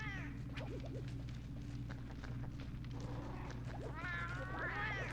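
Cats meowing in the cat room of the video game Monster Hunter Tri, several high wavering mews rising over a steady low game hum, clustered near the start and again toward the end.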